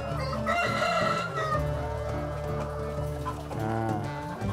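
Chickens on a farm clucking continuously at close range while roosters crow in long, loud calls, one early and another near the end, overlapping the cackling.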